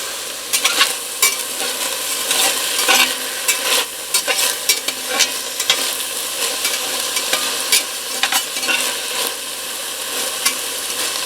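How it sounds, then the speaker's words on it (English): Garlic and white onion sautéing in a pan, bright crackling sizzle broken by frequent spatula scrapes and stirs, close and loud for the whole stretch. "Don't want to burn the garlic, so I'm going to move it around a little bit."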